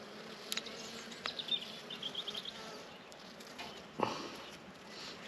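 Honey bees buzz around an open hive, a soft continuous drone with a few nearer passes, faint and close, along with light handling noises and no speech.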